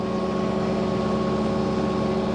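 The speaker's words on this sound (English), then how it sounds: "So first of all, we'll give it half throttle." Twin drum roller diesel engine at half throttle, a steady, even mechanical drone with a constant hum and no variation over the short stretch.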